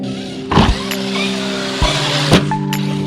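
Traxxas X-Maxx RC truck electric motor whining in steady tones as the truck backflips on a ramp, with a few short bursts of wheel spin and thuds between the whirs.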